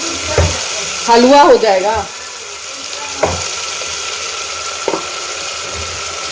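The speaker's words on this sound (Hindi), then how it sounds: "बैगन काट के नमक हल्दी लगा के फ्राई कर देते हैं" Sliced eggplant coated in salt and turmeric frying in a pan, a steady soft sizzle under a voice, with a few clinks and stirring knocks of a utensil against the pan.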